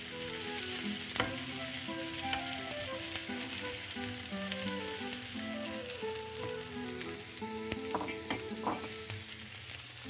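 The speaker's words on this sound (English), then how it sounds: "I'll add 3 garlic cloves chopped, and we'll saute for another minute." Chopped garlic and browning onion sauté in a pan with a constant soft sizzle, overlaid by sustained melodic background music, quiet and steady throughout with no talking.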